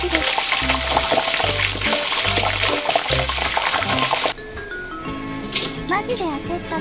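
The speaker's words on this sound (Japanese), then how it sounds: "スライスチーズが溶けてきて、やばいほど油が跳ねます" Sausage and sliced-cheese spring rolls deep-fry in hot oil, a loud dense crackle over background music that drops to quieter, sharper spitting and popping as the oil splatters.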